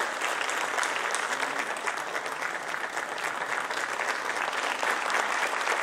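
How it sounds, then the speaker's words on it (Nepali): Loud, dense applause from a crowd at a celebration and award ceremony keeps up steadily for about six seconds. "जोरदार ताली के साथ श्री भद्रजीलाई यहाँ भी अभिनंदन जनाइदिने।"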